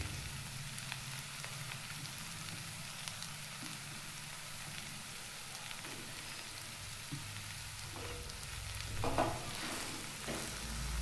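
Mashed boiled potato is stirred into cooked vegetables in a pan, giving a faint, steady sizzle with soft scraping and a few louder spoon knocks toward the end.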